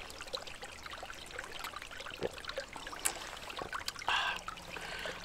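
An Elanwell water filter runs outdoors, water trickling and pouring into a cup in soft, uneven splashes that swell briefly into a fuller pour near the end.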